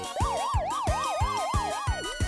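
A police siren wails in a fast, steady up-and-down pattern, loud and close, repeating without pause.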